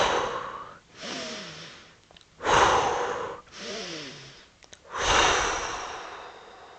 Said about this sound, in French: Vous respirez 3 fois rapidement.